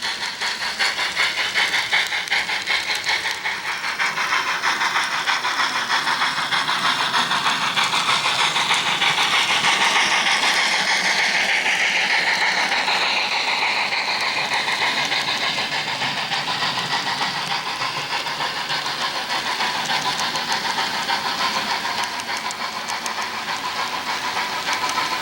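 Canadian Pacific 2816 steam locomotive rolling past Matz Street Tower and a retaining wall in Scranton, a loud, steady rumble and hiss of the passing engine lasting throughout with no voices.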